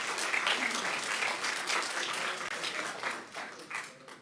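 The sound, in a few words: applause at a city council meeting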